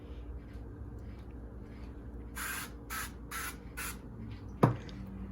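Cooking oil sprayed onto raw chicken in a home kitchen, four short hissing bursts in quick succession at moderate distance, followed by a small knock.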